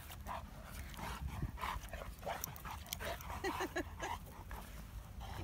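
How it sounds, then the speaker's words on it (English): A Dogue de Bordeaux (French Mastiff) whimpers and yips in short, high-pitched bursts, close by and fairly loud, over steady background noise and scattered movement sounds from big dogs playing. "he's a dog de Bordeaux, French Mastiff"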